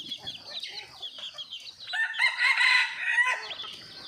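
A yellow backyard rooster crows loudly nearby, one drawn-out cock-a-doodle-doo rising over soft clucking and faint background sounds, with no voices.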